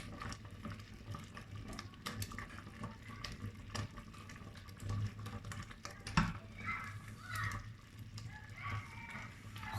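Thick liquid bubbling and popping at a low, steady simmer, soft and close, with small irregular spits breaking through.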